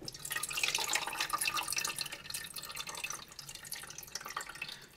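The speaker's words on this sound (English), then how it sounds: "So this just came from the tap, so I'm just going to fill the reservoir right here." Tap water pours continuously into the reservoir of an AeroGarden 3SL indoor garden, a close, steady splashing and trickling stream that eases slightly toward the end.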